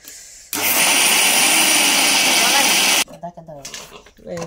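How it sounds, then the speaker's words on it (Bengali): An electric blender whirring at full speed for about two and a half seconds, loud and steady, then cutting off, with household voices talking before and after. "আম্মু হচ্ছে ব্লেন্ডার করতেছে"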